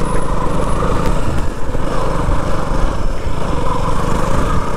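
A 200cc motorcycle engine runs steadily and loudly at close range, a constant buzzing drone with no talking.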